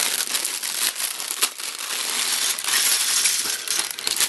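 Plastic bags holding LEGO Bionicle pieces for Tahu Master of Fire, set 70787, crinkle and rustle continuously up close, with small hard parts clicking inside, loud and busy throughout with no talking.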